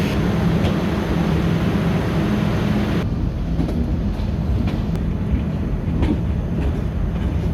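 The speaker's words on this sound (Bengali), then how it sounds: "রাইট টাইম সকাল ছয়টায় খুলনা থেকে ছাড়লো আটশো পঁচিশ জাহানাবাদ এক্সপ্রেস" The Jahanabad Express train departing Khulna, heard as a loud, continuous rumble of rolling rail cars with faint rhythmic clicks, steady throughout, no voices.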